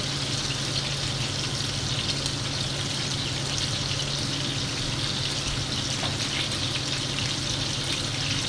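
Water poured into a big pot for boiling cauliflower in a home kitchen, a continuous loud rushing stream that stays steady throughout, no speech.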